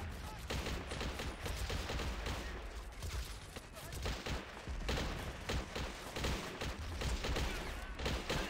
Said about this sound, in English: the machine gun's just ripping them up and whatnot